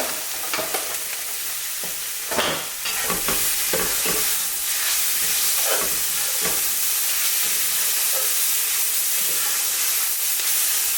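A pile of baby spinach wilting down in a hot pan, giving a loud, continuous sizzle and hiss with scraping stirs and occasional clatters early on, with no talking.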